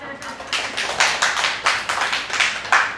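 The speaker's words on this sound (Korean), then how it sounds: "박수 한번 쳐봐." A small group claps in a quick, steady rhythm for a few seconds, close and moderately loud, with a voice faintly underneath.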